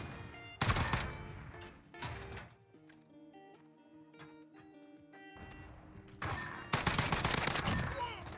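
Gunfire in Modern Warfare Search and Destroy, loud bursts of rapid automatic shots at the start and again near the end, with a quieter stretch of ringing tones between them.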